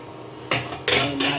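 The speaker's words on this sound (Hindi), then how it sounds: "अब कुकर को बंद कर देते हैं" A metal pressure cooker lid is closed in a home kitchen, giving three sharp, loud clanks of metal on metal in quick succession, close by with no speech.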